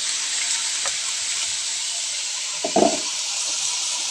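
Fish, koi, fries in hot oil in a pan, giving a steady, bright sizzle and hiss with a brief clatter of stirring or turning partway through.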